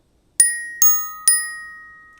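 Three evenly spaced, light strikes of mallets on orchestral bells, each a bright ringing tone that decays slowly, played close and alone with no talk.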